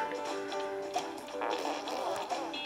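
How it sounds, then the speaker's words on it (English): Cartoonish fart sound effects from the Crop Duster Supreme video game, several short blasts over a busy game soundtrack at moderate loudness. "I got a fart on him."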